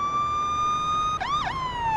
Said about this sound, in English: You clearly don't see me coming down the street with my sirens on.